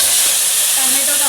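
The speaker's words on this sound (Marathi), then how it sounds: "तेल तापलं आहे। आता आपला कढीपत्ता" Curry leaves crackle and sizzle in hot oil while tempering a capsicum gravy curry (Shimla mirch kalvan), a loud, constant, close hiss from start to end.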